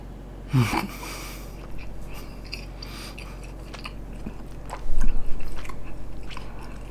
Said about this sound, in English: That cucumber is just so crunchy, so fresh.